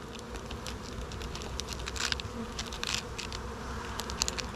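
A dense, continuous buzz of many honey bees close by as hive plates are pulled off, with scattered crackles and taps from handling.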